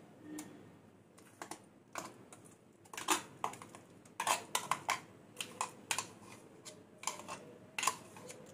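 Spoon scraping almond paste out of a container into a kadhai for badam burfi, a string of light, close clicking and scraping taps at an uneven rhythm with no talk.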